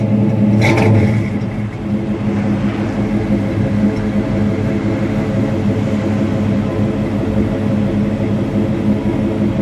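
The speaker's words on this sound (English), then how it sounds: "give it a rev. That sounds good. It's got a nice rumble to it, doesn't it?" A 1969 Mercury Cyclone Spoiler Dan Gurney Special with a 351 V8 idles with a deep, steady rumble that briefly rises in a rev near the start, then settles into a loud, continuous throb close by.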